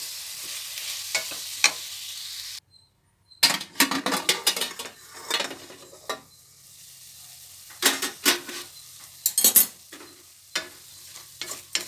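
Tomatoes sautéing in a pan for mushroom biryani: a soft sizzle broken by a brief silence, then repeated scraping and clinking of a spoon stirring against the pan, close and fairly loud.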